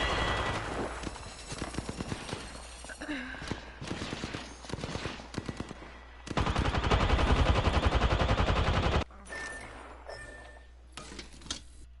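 Video game gunfire: rapid bursts of automatic shots in clustered volleys, with one loud, sustained stretch of continuous fire in the middle, then sparser pops near the end.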